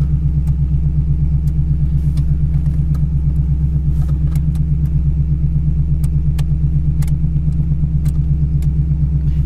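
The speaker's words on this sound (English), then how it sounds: "Idle is idling just a little fast." A 1982 Oldsmobile Cutlass idles slightly fast, holding a loud, steady, close engine rumble with an even pulse throughout and no voices.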